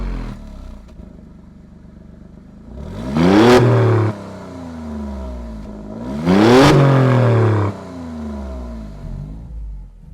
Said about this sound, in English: push button start on the steering wheel.